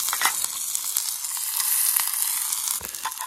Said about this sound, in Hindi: अभी हमारा तेल रेडी हो चुका है, तो इसमें डालते हैं प्याज और मिर्चा